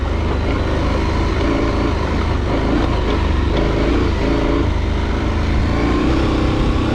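KTM 790 motorcycle at speed with the engine droning loudly and continuously under heavy wind rush, rising and falling as the rider accelerates, close and constant throughout.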